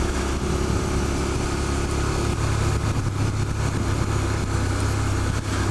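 A motorcycle engine runs steadily in third gear after an upshift, a loud, constant mid-pitched drone with wind rush and no pauses.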